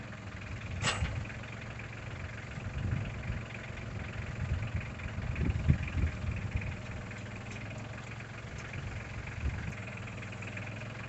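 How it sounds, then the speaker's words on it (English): Tractor engine straining while lifting a post with pallet forks, a low, faint rumbling drone that is steady throughout with a few brief surges in effort near the middle, heard alone without talk. "the back tires of the tractor actually started coming up off the ground, and it started to tip a little bit"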